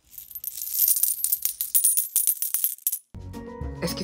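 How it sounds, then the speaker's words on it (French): Coins dropping and jingling, a rapid scatter of bright metallic clinks over about three seconds, followed by a short tonal musical sting; no voices. "Ce sont des pièces de monnaie."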